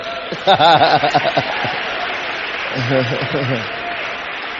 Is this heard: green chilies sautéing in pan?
no